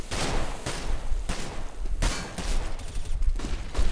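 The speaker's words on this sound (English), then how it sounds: "He sprays them all down, but not able to get the final frag, as AKS somehow survives that spray" Counter-Strike gunfire in a competitive esports match, loud rapid bursts of automatic spraying with sharp repeated shots, dense and continuous throughout.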